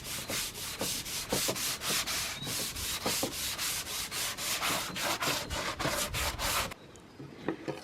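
Sanding a wooden table makes a rhythmic series of close, loud abrasive strokes, about two per second, each a harsh scratchy rasp. The strokes stop abruptly near the end, and a few softer rubs follow.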